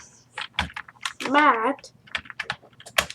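Keys clatter on a computer keyboard while Java code is typed, quick irregular clicks close to the mic under a voice speaking.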